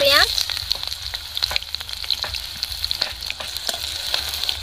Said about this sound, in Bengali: এর মধ্যে আমি গোটা জিরে দিচ্ছি, জিরেটা ফুটে গেছে।